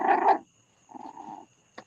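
A dog growls in low rumbling bursts, one short growl, a pause, then a second longer one, followed by a brief faint sound, close and fairly quiet.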